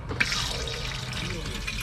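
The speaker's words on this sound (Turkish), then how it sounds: "Sifon suyu da çalışıyor." Water rushes steadily from a toilet flush inside a second-hand caravan, a continuous close hiss and gush with no break.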